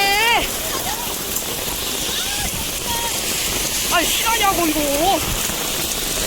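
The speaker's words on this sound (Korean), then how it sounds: "너무 비가 많이 오는데" Heavy rain pours down in a storm with strong wind and fog, a dense, continuous hiss close around, while a person speaks over it in bursts.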